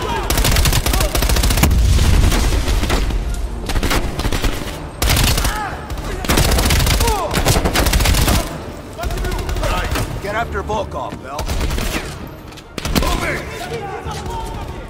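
Dense gunfire in Call of Duty Black Ops Cold War, sustained rapid automatic bursts and repeated shots stacked into a loud, continuous barrage with brief gaps, voices chattering underneath.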